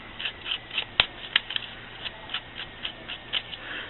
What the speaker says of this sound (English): just use your sort of everyday scissors